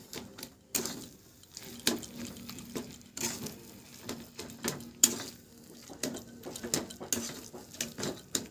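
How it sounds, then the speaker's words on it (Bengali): Pumpkin curry stirred with a fried fish head in a pan, giving repeated scraping and clattering strokes of a spoon against the pan, close and fairly quiet, with no one talking. "মাছের মুখটা দিয়ে ভালোভাবে তরকারিটা ঘেঁটে নেব"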